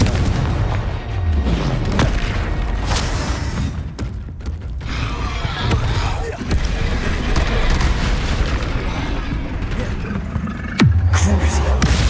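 Repeated Confringo blasting spell explosions in the video game Hogwarts Legacy, loud booming bursts and crackling impacts layered with mechanical creaks and dense battle noise across the whole stretch.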